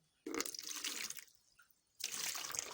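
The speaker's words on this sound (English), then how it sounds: "by pouring water in a bowl" Water poured into a bowl while testing powder detergent, two splashy bursts of pouring separated by a brief quieter dribble, close and clear with no talk.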